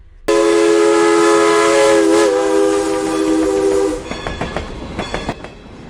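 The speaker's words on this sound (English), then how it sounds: "The train carried her forward," A loud, sustained train horn blares for several seconds, then cuts off as rhythmic clattering of wheels over rail joints follows.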